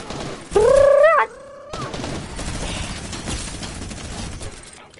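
A minigun fires in a video game: a loud whirring spin-up climbs in pitch, then gives way to a continuous, dense rattle of rapid shots that fills the rest of the moment.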